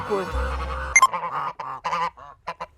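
Geese honk loudly and close by in Plyos on the Volga, Russia, a burst of harsh, nasal calls overlapping one another, then shorter scattered honks.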